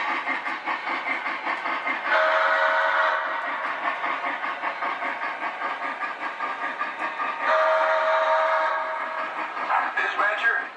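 A Lionel LionChief model steam locomotive runs with a continuous loud mechanical chuffing and rumble, and two sustained steam-whistle blasts sound partway through.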